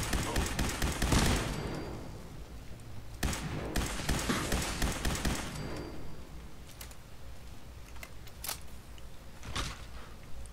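Gunfire from a weapon in the video game Fallout 4, a loud burst of rapid shots in the first seconds, then another cluster around four to five seconds and scattered single cracks later, over game ambience.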